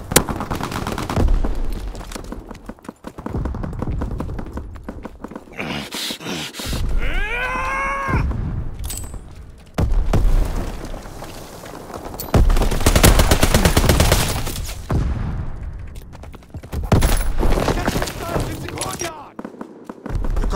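Gunfire in a Call of Duty WWII command post assault: near, loud bursts of rifle and machine-gun fire with explosions, grunts, and voices shouting through a chaotic battle.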